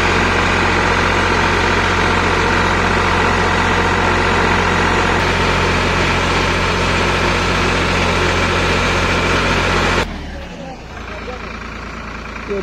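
A tractor engine, its hydraulics running slow, idles steadily and loudly with a low, constant rumble for about ten seconds, then cuts down abruptly to quieter background noise.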